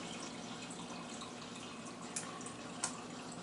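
Water runs from a tap at home as a glass is refilled, a faint, steady trickle with a few small clinks near the end, no talking.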